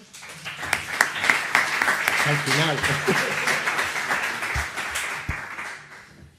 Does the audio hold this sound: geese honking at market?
no